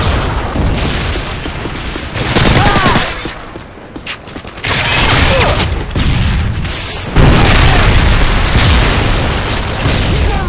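Predator missile strike in Modern Warfare 3 multiplayer, heard as loud, rolling booms and bursts of in-game gunfire that surge and ease in waves over about ten seconds.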